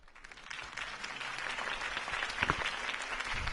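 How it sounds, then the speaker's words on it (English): A crowd applauds after a campaign speech by Harvey Dent in the video game Batman: The Telltale Series, steady clapping that swells from a soft start and stays moderately loud, heard somewhat distant. "could have heard that applause"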